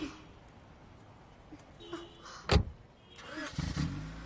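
A car pulls away with its driver at the wheel. It is quiet and distant at first, with a few faint knocks, then a low engine rumble swells near the end.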